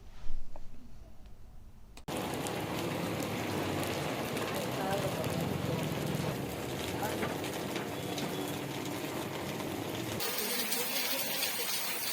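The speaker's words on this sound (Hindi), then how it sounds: "स्टेशन रोड, पटेल वागा जैसे कई इलाकों में भारी बारिश दर्ज की गई।" Heavy rain pours steadily onto surfaces in a town street, a dense, continuous hiss that starts abruptly after a quieter opening.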